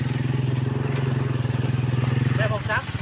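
A motorcycle engine puttering nearby on a rural road beside a carabao-drawn cart, a steady rhythmic pulsing idle-to-rolling drone that holds for most of the moment, with voices speaking briefly near the end.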